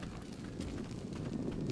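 Donkey hooves in the video game ARK Survival Ascended: a quiet, continuous run of clip-clopping footfalls blended into rumbling background ambience.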